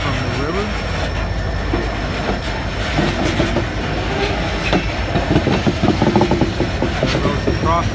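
A train rumbles past about 10 feet away near a river and crossing with steady clickety-clack of wheels and faint squeals, a voice talking briefly under the continuous roar.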